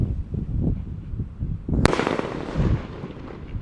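An Elang Emas firework rocket bursts with one sharp, loud crack in the air, followed by a crackling, hissing decay, over faint outdoor rumble and background noise.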